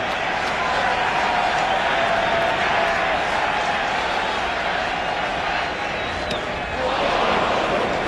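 A 2003 playoff crowd at a Yankees baseball game roars and cheers steadily, a dense wall of distant crowd noise with scattered claps, swelling slightly near the end.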